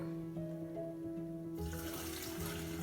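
Filtered water pouring steadily into a glass jar holding apples and sugar for homemade apple cider vinegar: a continuous close trickle that turns brighter and splashier partway through.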